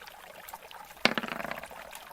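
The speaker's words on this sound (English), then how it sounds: "She's just gonna splash the water." Water splashes once, then trickles and dribbles away for about a second, quiet and close after a near-silent start.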